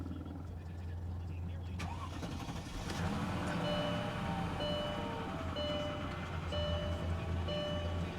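A used car at an auto auction cranks and starts around the midpoint, then idles steadily as a low hum with a faint beeping tone, while people talk nearby.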